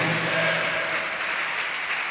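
A church congregation claps through a Portuguese-language worship service, giving a dense, loud burst of applause that stays steady from start to end.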